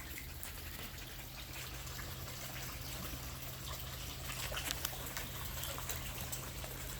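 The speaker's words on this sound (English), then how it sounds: "we're going to start by draining this water" Water drains steadily from a tub, a continuous soft rushing trickle that holds at an even level for the whole stretch, with a slight swell near the end and no voices.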